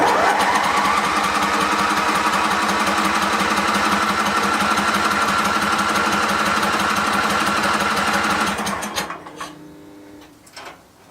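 A barn-find Hayter ride-on mower's petrol engine cranks and fires, running in a steady, loud, rapid chugging drone for several seconds before it cuts out and winds down, leaving faint clicks.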